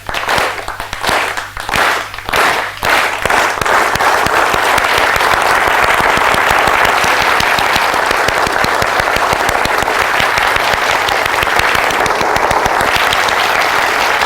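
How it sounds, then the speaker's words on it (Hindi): An audience claps in a special method: a few slow, loud, separate claps at first, then a dense, sustained wall of applause that stays loud and steady to the end. "मैं आपको दिखाता हूं ताली कैसे बजानी है"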